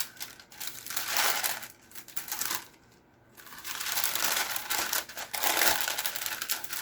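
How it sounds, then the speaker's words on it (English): Glue-covered paper folded and refolded by hand during crafting, continuous close crinkling and rustling with a short pause midway before the crumpling resumes. "I just keep folding my gluing paper around to get it where it doesn't have anything sticky on it"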